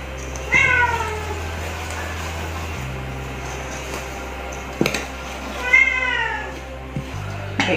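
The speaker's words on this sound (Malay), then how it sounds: "anak kucing saya." A kitten meows twice in a kitchen, each call a clear rising-falling cry about a second long, with a couple of soft knocks between them over a steady low hum with background music.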